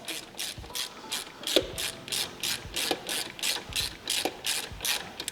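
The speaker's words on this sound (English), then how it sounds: "So, grab my ratchet again, Now, I'm gonna start putting some tension on the alternator belt" A ratchet clicks in a steady run of short bursts while tensioning the alternator belt on a Subaru GD STI, close and crisp, with no talking.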